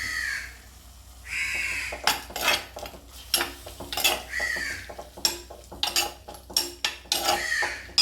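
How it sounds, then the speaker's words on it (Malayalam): A spoon stirs prawn coconut curry with salt in a pan, busy close scraping and clinking strokes in uneven bursts, with a crow cawing loudly nearby. "ഉപ്പിട്ടൊന്ന് ഇളക്കി കൊടുക്കുക"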